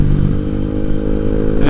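A motorcycle fitted with RCB Pro shock absorbers cruises fast on a concrete road along the Pantura highway near Indramayu, its engine droning steadily and up close with a constant rumble and some road clatter throughout.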